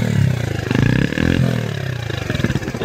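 A Mash Fifty 50 motorcycle accelerating close by, a loud rough single-cylinder engine note with pulsing, rattly revs rising over a few seconds.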